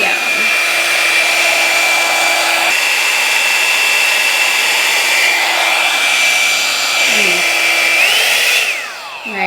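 A Drybar Double Shot blow dryer brush runs close and loud on its medium setting, a steady whine and rush of air with slight pitch shifts, before it cuts off near the end.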